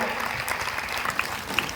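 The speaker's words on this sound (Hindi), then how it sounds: "जोरदार तालियां जोरदार होनी चाहिए।" Audience at a Shri Ram Katha religious discourse applauds steadily, a dense, continuous wash of clapping from a crowd with a few sharper individual claps standing out near the end.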